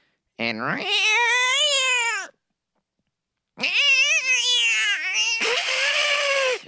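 A human voice imitates a cat meowing: two long, drawn-out wailing meows with a short silent gap between them, loud and close.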